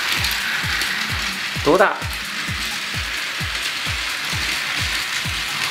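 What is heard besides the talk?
Daiso toy train running, four-car set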